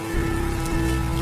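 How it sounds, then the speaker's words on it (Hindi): Steady rain falls outside a village home, making a constant, dense hiss that fills the background without pauses or voices. "और वैसे भी यह बारिश ज्यादा देर की नहीं है।"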